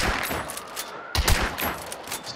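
Rapid gunfire from the video game Hunt: Showdown, a cluster of sharp cracks followed by a louder burst after a brief pause, echoing with no voices.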